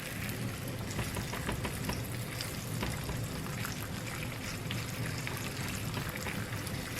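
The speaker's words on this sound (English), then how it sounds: "I have one egg that I'm going to crack onto here and fry it up" A single egg frying in a pan with its yolk broken, sizzling in a dense, constant crackle that stays loud and close throughout with no speech.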